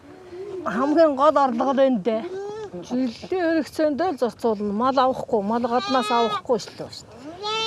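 Goats at a Mongolian nomad camp bleat repeatedly, several overlapping wavering cries close by, loud and continuous with almost no gaps.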